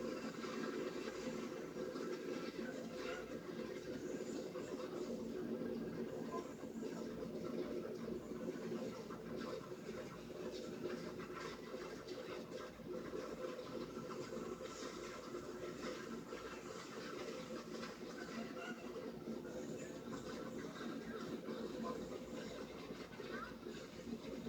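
An OY rotary snowplow train works along the railroad toward the Cumbres summit, a steady, continuous rumble and roar of machinery running throughout with no break in level.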